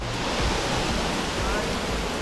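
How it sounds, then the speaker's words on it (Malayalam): A forest waterfall in Kerala roars continuously and loudly close by, a dense, unbroken wash of falling water filling the whole scene. "നമുക്ക് വെള്ളച്ചാട്ടത്തിൻ്റെ ഉള്ളിൽ പോവാം"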